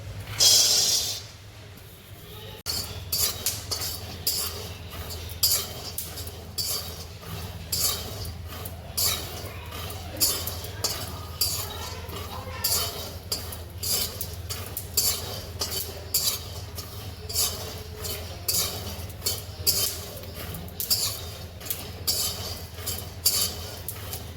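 Continuous dry rattling and scraping as peanuts are roasted and stirred around a metal wok on a gas stove, with a steady rhythmic clatter and a faint low hum underneath.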